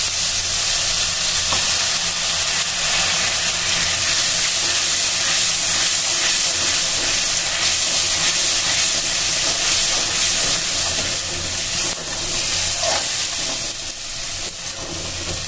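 Ground spice paste fries hard in a pan for a vegetarian potato and pointed gourd posto, a loud, steady sizzle and hiss with occasional stirring scrapes running throughout.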